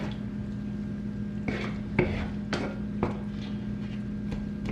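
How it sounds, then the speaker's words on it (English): Tomatoes are stirred into frying ginger garlic paste in a pan, with a spoon scraping and knocking against the metal in several spaced clacks over a low background hum. "Now I will add the tomatoes and mix the tomatoes well with the ginger garlic paste."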